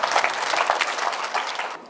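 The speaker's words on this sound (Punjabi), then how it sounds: "ਤਾੜੀਆਂ ਬੰਦੀਆਂ ਨੇ" A rally crowd bursts into sustained, dense applause, loud and close, with clapping thick throughout before cutting off near the end.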